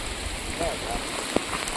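Steady patter of rain at a dam, with faint murmured talk and a brief sharp knock partway through.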